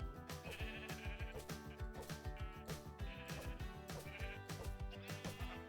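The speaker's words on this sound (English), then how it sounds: "We got ourselves some lovely naked sheep." Sheep in the Minecraft video game bleat in short, repeated calls over rhythmic background music that keeps playing throughout at moderate loudness.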